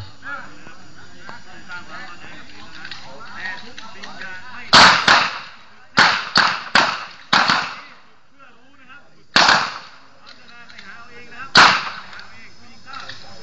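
Glock 19 pistol shots during a shooting test: loud, sharp close-range reports in uneven clusters, including a quick group of three, separated by pauses with someone speaking in between.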